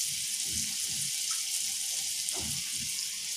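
Whole fennel seeds, a cinnamon stick, a split bay leaf and a clove sizzling in a tablespoon of melted butter for paneer masala, a steady close frying hiss with soft crackles and light stirring taps, no talk.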